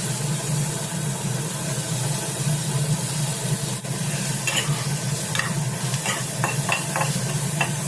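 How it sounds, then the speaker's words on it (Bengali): Chopped onion, ginger, tomato and green chili fry in oil left from frying potatoes, a loud constant sizzle with scraping stirs in the last seconds and no voices. "এবার ওই আলু ভাজা তেলের মধ্যে পেঁয়াজ কুচি আদা কুচি টমেটো কুচি ও লঙ্কা কুচি দিয়ে দু মিনিট মতো ভেজে তুলে নেব"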